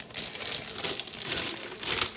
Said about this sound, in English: I personally prefer to use just a regular zip-top bag.